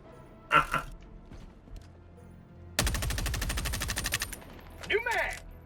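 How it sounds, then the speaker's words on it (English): A Gatling gun fires in Helldivers 2, a rapid, loud burst of evenly spaced shots lasting about a second and a half, with scattered game sounds and clatter before and after. "Just be advised, it is a Gatling."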